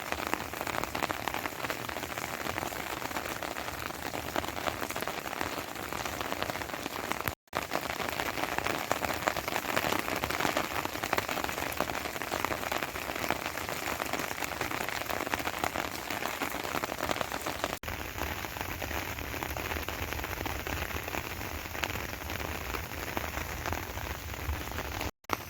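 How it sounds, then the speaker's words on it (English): A steady, heavy rain downpour in metro Phoenix, a dense constant hiss of drops hitting surfaces that carries on evenly throughout, with one brief dropout, and no voices. "It's a very steady and constant downpour."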